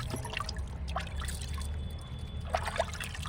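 Jaggery tipped into a cow-dung compost mixture with water gives a soft, steady trickling and pouring sound close by, with a couple of brighter splashes near the end and no talking.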